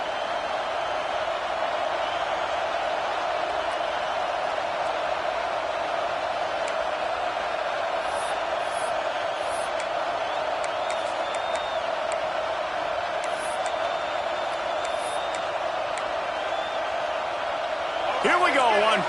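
A roaring stadium crowd in the College Football 26 video game, a steady, dense wash of crowd noise holding throughout with faint whoops rising over it, swelling slightly at the very end.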